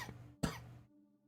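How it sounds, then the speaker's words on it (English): A single sharp cough bursts out, near and loud, with a rough throaty tail fading into a low hum. "That hurt my head, that cough."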